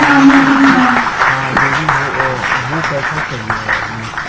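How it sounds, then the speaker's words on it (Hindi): At a book release ceremony, an audience claps in a moderate burst that gradually thins out, while a voice speaks over the applause and a low tonal hum runs beneath. "जोरदार तालियां बजती रही।"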